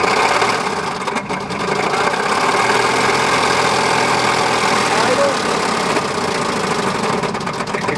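A 1999 Chevy Astro van engine with rod knock runs steadily near the microphone for the whole stretch, a dense continuous mechanical drone with a rough, knocking texture and no clear talk over it.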